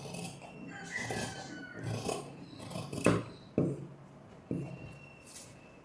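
Scissors snipping through blouse fabric along the sleeve, a few close, distinct cuts with soft rustling of cloth between them.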